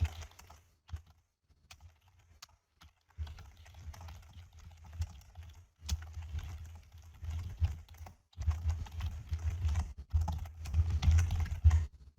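Fingers tap out JavaScript code on a computer keyboard in quick, uneven bursts of close keystrokes separated by short pauses, with no talking.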